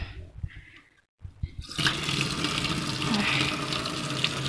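Water gushes steadily from an outdoor sink tap used for washing utensils in the countryside, starting abruptly after a brief quiet and continuing as a loud, even splash.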